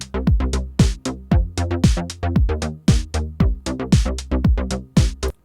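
Short, punchy electronic synth bass notes from a dance production, played as a steady run of clipped, percussive hits in a driving rhythm that stays loud and close throughout, with no voices.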